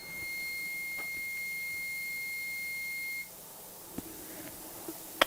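Pyronix EURO 46 alarm panel giving one long steady beep as the alarm is set, which stops abruptly, followed by a few faint clicks in a quiet room.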